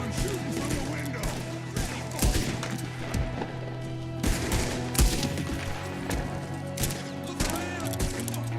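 Gunfire in Red Dead Redemption 2, with a shooter firing from a window, crackles as repeated sharp shots and bursts spread across the scene, fairly loud, over a constant game background with occasional voices.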